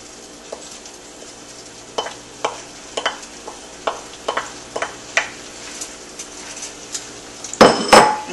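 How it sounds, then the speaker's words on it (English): Brown rice is added to an enchilada mixture in a pan with a series of sharp spoon scrapes and knocks against the pan, spaced irregularly, ending in a louder clattering burst. "The last thing I'm going to do, add the brown rice."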